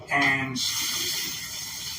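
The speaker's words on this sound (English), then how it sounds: "we're going to start filling this up with water" Tap water gushes into a sink, a steady close rush of running water filling the basin, with a brief spoken word at the start over the flow.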